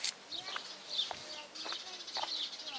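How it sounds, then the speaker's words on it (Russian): Small birds chirp in short, high bursts outdoors on a quiet city street in Baikonur, several calls spaced across a few seconds against faint background hiss. "Птички поют"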